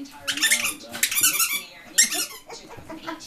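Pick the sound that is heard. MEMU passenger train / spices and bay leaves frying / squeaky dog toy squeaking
squeaky dog toy squeaking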